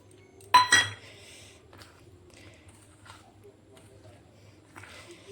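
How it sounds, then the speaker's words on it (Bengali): Mango cake batter of flour and eggs is mixed in a bowl: one sharp clatter of utensil against the bowl, then soft scattered scraping and light clinks, close and fairly quiet. "এইভাবে সবগুলোকে আমি ভালো করে মিশিয়ে নিচ্ছি।"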